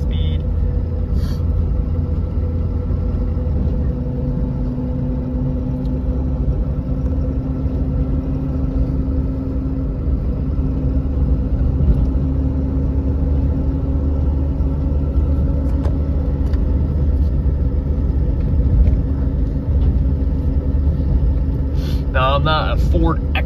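A used 2015 Ford F-450 truck engine rumbles steadily at a low, even pitch throughout a test drive, a continuous drone heard from inside the cab, with a few brief clicks near the end.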